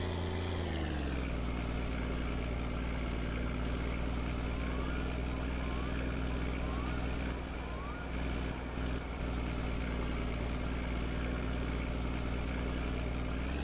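A tractor engine idles and chugs steadily in the driving game My Summer Car, a continuous low, harmonic drone. Forks are lowered and loads are towed behind it. The sound is fairly loud and close, with slight pitch shifts and a few faint clunks.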